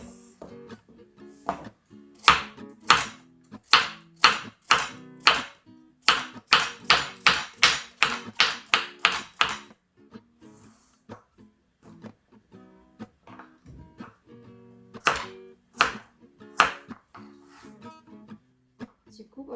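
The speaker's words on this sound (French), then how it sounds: "หั่นแครอทกับมีดซิกแซกนะคะ" Carrots are sliced on a board with a zigzag knife, giving a series of sharp, evenly paced chopping thuds in a fast run, then a pause and a few more cuts, with someone talking throughout.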